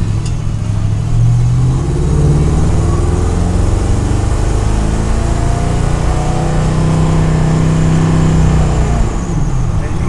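A 1967 Ford F100 pickup drones steadily down the highway, its engine and road noise loud and continuous from inside the cab, with slight rises and falls in pitch as it pulls along.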